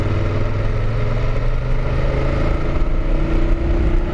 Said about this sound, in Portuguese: Se acelera, dá a mão na moto e ela cisca mesmo